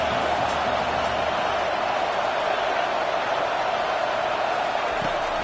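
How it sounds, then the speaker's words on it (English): A football stadium crowd roars continuously after a sack, a dense, loud wash of cheering that holds steady and unbroken throughout, with no pauses or swells. "Listen to this crowd just shaking the girders of this place trying to help their defense."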